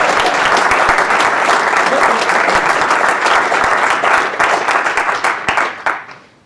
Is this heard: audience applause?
yes